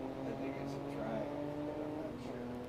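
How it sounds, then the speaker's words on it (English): A 3-cylinder Triumph car engine runs at a dry lake race meet, a faint, uneven mid-pitched drone shifting in pitch as it pulls away, with people talking over it. "Is it a Triumph? It's got a unique sound to it. Is that the 3-cylinder?"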